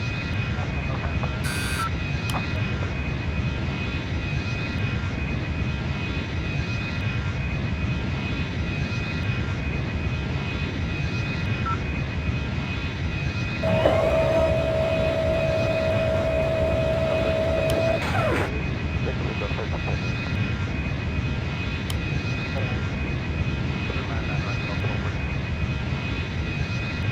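A McDonnell Douglas MD-90 jet departs Memphis International Airport, with a steady, moderately loud engine roar and a constant whine that holds throughout and a brief higher tone in the middle.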